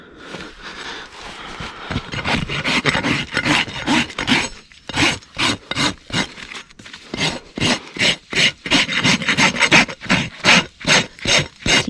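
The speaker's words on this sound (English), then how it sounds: "My rasp is getting a little bit dull." A slightly dull farrier's rasp filing a mustang's hoof wall during a trim, rough scraping strokes that settle into a quick regular back-and-forth rhythm, close and distinct.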